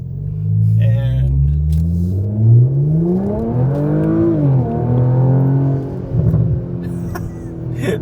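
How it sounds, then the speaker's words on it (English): A Porsche Macan GTS with a stock exhaust pulls away from a stop sign. The engine note climbs and then eases off, followed by a few sharp exhaust pops near the end, with a voice briefly heard inside the car. "That big old pops and bangs. And that's without like a tune or anything. That's just this exhaust."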